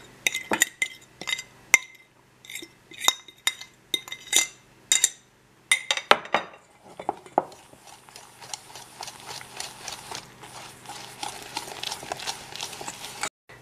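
Almond cream with icing sugar and beaten egg is mixed in a bowl, a string of sharp, clinking strokes of a utensil against the bowl, then quicker, softer continuous scraping, close and clear with no talk.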